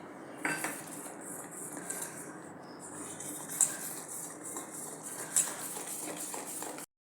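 Egg paratha batter being whisked in a bowl: a steady wash of fine metallic clinking and scraping from utensil against the bowl, with a few sharper clinks standing out, fairly close and continuous with no talking.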